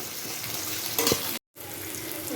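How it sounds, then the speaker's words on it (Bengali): A Bombay duck fish head frying with onion and green chili in a pan, a steady close sizzle with a brief clatter of stirring and a short cut to silence before the frying resumes. "এই লোটে মাছের মাথাটা আমি ভাজবো"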